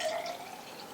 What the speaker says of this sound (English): Now we're going to very carefully pour our water into that center vase.